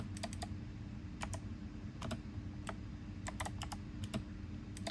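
Typing a chmod command on a computer keyboard while setting up a script for a Steam Deck, quiet scattered keystrokes in short bursts over a low steady hum.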